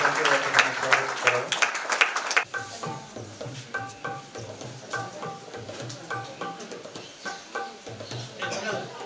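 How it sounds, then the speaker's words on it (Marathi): An audience at a felicitation ceremony for meritorious students, held on Ahilyadevi Holkar's birth anniversary, claps in welcome in a dense burst of applause for about two seconds. The clapping then stops and amplified speech carries on. "सर्वांनी टाळ्या वाजवून त्यांचे स्वागत करावं"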